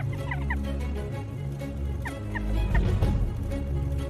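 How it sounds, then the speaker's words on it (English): A pair of jackdaws disturbing a kestrel nest, giving short harsh calls in two brief bursts against a steady background of outdoor noise. "This time it's a pair of jackdaws prospecting nests."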